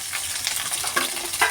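Finely chopped onion sizzles in oil already used for frying in a pan, a steady soft crackle with a few louder spits, heard alone with no voices, for Malaysian nasi lemak.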